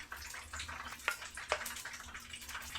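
Shrimp and vegetable stock being strained, a steady close pouring and splashing of liquid with a couple of sharper clinks or drips, no talking.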